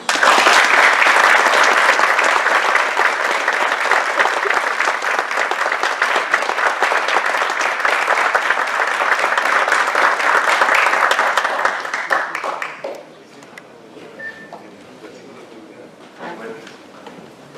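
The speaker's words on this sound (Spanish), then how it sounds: "les pido a todos un inmenso aplauso para dos brillantes expositores" A conference audience gives a long, loud round of applause for two speakers at a talk on constitutional reform, the dense clapping filling the room for about twelve seconds before fading out to quiet room noise.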